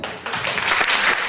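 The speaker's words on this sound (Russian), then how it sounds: "Аплодисменты, аплодисменты." Audience applause at a spa and wellness professional awards ceremony, a short burst of steady, dense clapping that carries on without a break.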